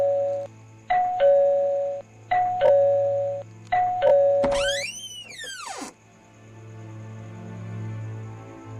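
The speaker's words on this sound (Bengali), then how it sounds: "কি যে করে কাকু, বাচ্চা ছেলের মতো কলিং বেল দেবে চলেছে।" A cartoon doorbell rings again and again, four quick two-tone ding-dongs in a row, followed by a sweeping whoosh-like swell and then a low lingering hum, with no voices.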